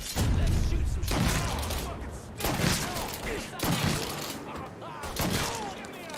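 Video game gunfire in loud repeated bursts, four or five dense blasts of crackling shots with shattering debris and thumps, under background game sound and some voices.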